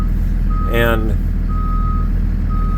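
Steady high-pitched reversing beeps repeat from a Thomas C2 school bus with hydraulic brakes as it backs up, over a loud idling diesel rumble, with a brief spoken word partway through.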